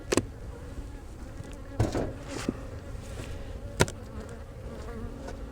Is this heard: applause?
no